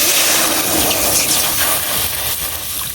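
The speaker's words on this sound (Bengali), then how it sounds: "এখন কড়াইয়ে দিয়ে দিতেছি পানি" Water is poured into a hot wok holding fried onions and chillies and erupts into a loud, continuous steaming hiss. The hiss stays strong throughout and eases only slightly toward the end, with no voices.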